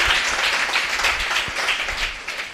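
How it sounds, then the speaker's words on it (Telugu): A church congregation claps loudly at a pastor's sermon, a dense, steady wash of applause that carries on without a break across the whole stretch. "చప్పట్లు కొట్టడు గట్టిగా."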